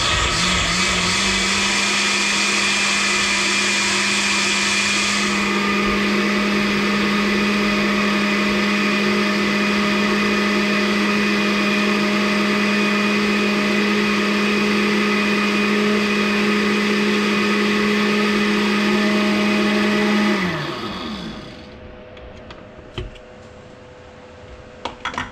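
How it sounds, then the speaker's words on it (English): A blender on medium speed purees organic whole fruit for canned jam, a loud, steady whirring drone for about twenty seconds before winding down and stopping, leaving a quiet room. "So we're going to go ahead and blend that. So we're just going to use medium like we did before for the puree."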